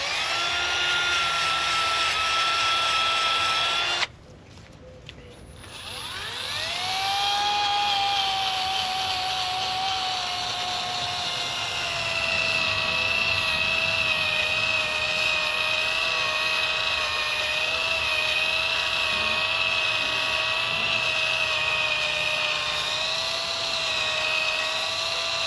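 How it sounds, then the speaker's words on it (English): A bristle disc on a power tool whines at high speed against a Cummins engine block, a loud sustained tonal scream that dips briefly as the tool bites in, then winds back up and holds steady. "And here goes the bristle disc."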